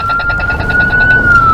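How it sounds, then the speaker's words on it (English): A loud, close ambulance siren wailing steadily with a pulsing warble, dominating the scene with traffic rumble beneath. "I hear an ambulance."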